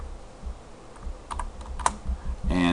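Light clicking keystrokes on a computer keyboard, a few soft taps followed by a quicker burst of typing at close range, with no talk.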